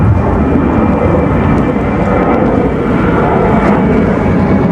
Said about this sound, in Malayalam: ഇവിടെ അടുത്ത് ഫ്ലൈറ്റ് പൊങ്ങുക